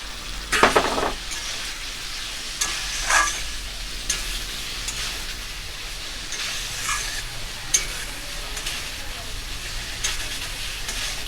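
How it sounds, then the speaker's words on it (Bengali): Fried pointed gourd sizzles in spice paste in a pan, a steady low frying hiss broken by several sharper stirring scrapes and bursts, loud and close. "ভেজে রাখা পটলটা দিয়ে ভালো করে আমি এরকম করে আরো একটু কষিয়ে নেব।"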